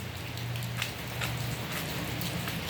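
Heavy rain pours steadily outside a house in South Korea, a dense, even hiss of drops on surfaces with occasional louder splashes and no speech.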